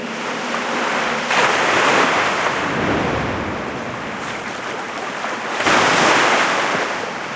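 Ocean waves in the Dragon Raja video game wash in as a loud, continuous roar, swelling twice with breaking surf and mixed with a windy rush. No voices are heard.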